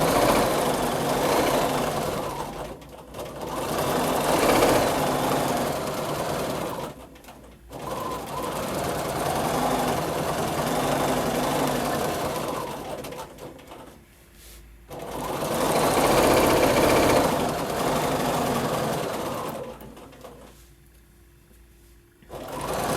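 A sewing machine stitches free motion echo quilting in steady, loud bursts, running for several seconds, pausing briefly, then starting again, with near, continuous mechanical whirring and no talk.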